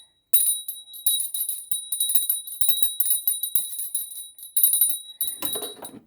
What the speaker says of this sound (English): I am going to ring a bell here just to clear the energy on this deck